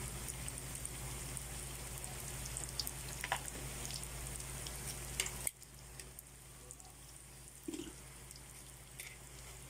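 Raw ingredients going into a hot frying pan, with a steady loud sizzle that drops abruptly partway through, then continues quieter with scattered small crackles.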